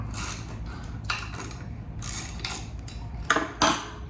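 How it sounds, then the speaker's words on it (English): Nuts are removed from bolts on a Hix screen printer and set aside, giving soft metallic scrapes and then two sharp clinks of metal set down close by. "So you take the nuts off and set them to the side."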